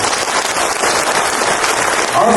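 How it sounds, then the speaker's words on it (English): Audience giving a big round of applause for the state's Chief Minister at a public gathering, dense continuous clapping, loud and sustained throughout. "Let us applaud for a big round of applause,"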